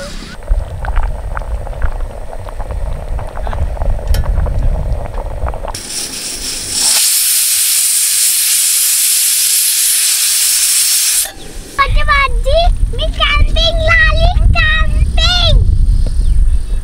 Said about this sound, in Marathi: स्टोव वगैरे आता सेटअप केलाय सगळा आणि खिचडी बनवणं सुरू आहे